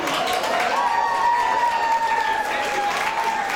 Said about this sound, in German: Taimi, jetzt noch einmal nach vorne und dann hast du den Applaus wirklich verdient.